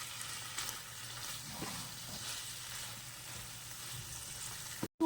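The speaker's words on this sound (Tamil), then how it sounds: "மசாலா நல்லா ரெடி ஆனதுக்கப்புறம் நறுக்கிற மல்லித்தலை, அதுக்கப்புறம் பச்சை மிளகாய் நல்லா போட்டு வதக்கிக்கலாம்." Chicken chukka masala being sautéed with chopped coriander and green chillies in a pan, a steady close sizzle and frying hiss with a few soft stirring scrapes, no voices.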